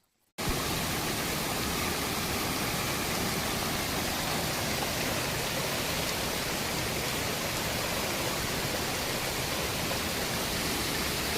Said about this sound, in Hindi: पानी के बहाव के साथ साथ नदी भी बहुत बढ़ रखी है।